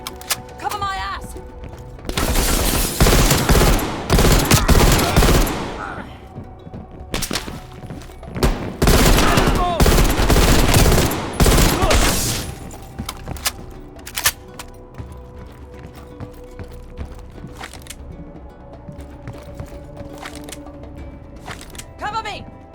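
Bursts of rapid gunfire in a Call of Duty Black Ops Cold War campaign firefight, loud and dense in two long volleys early on, then sparser thuds and mechanical clunks, with shouting voices mixed in.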